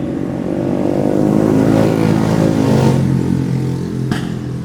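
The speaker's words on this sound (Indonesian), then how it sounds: "Gue nggak ngerti esensinya knalpot itu apa." A loud vehicle exhaust revs on the street nearby, a rough, throbbing engine roar that swells and holds for several seconds before easing off slightly.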